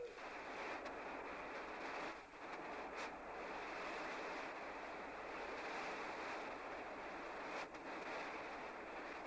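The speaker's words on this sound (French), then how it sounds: "Des torrents d'eau boueuse submergent la ville," Torrents of muddy floodwater rushing through the city of Nîmes during a flood, heard as a continuous broad roar of water, steady and dense, with brief dips, no speech.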